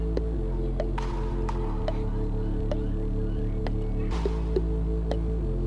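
A mouth-made water drop imitation, a voice producing a series of short, sharp plopping pops spaced about a second apart over a steady background hum.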